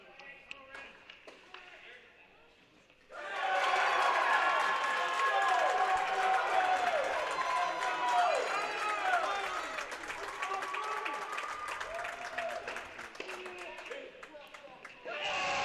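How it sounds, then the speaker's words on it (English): A crowd at a men's college tennis match, MTSU against SMU, erupts into loud cheering, whooping and clapping as the score reaches 6-6, following a few seconds of quieter commentary and sustained for over ten seconds. "the crowd here erupts as it now goes 6-6"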